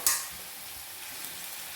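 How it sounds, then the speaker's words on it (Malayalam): Pieces of tuna for a coconut fish pickle fry steadily in a pan, a continuous close hiss with a brief stir or clink at the start, no voices. "ഇനി അടുത്ത് ഇച്ചിരി വറുത്തെടുത്തതിന് ശേഷം വീണ്ടും അടുത്തത് കൂടെ വറുത്തെടുക്കാം."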